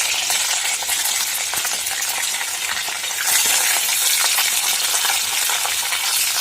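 Potatoes, brinjal and onion fry in a pan with drumsticks for South Indian sambar, giving a loud, steady, crackling sizzle that runs throughout with no talking.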